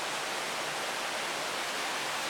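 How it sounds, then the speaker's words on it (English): Steady broadband rush of a waterfall heard from a hotel balcony at the Imperial Palace, a constant, even roar with no breaks and no voices. "And there's the waterfall."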